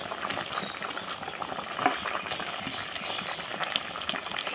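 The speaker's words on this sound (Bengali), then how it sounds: "এখন আমি ঝোলটা ফুটিয়ে নেব।" Curry gravy with elephant apple bubbling in a pan, a continuous close simmer of small popping bubbles with a few louder bursts.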